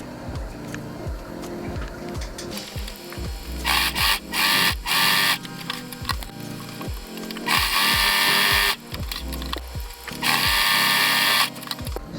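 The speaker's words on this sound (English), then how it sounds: "now you could just keep sewing on the sides" A sewing machine stitches the fabric sides of a rat cube hammock, running in repeated rapid whirring bursts of a few seconds each, close and loud, with short pauses and clicks between runs.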